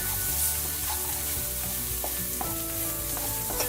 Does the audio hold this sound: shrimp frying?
yes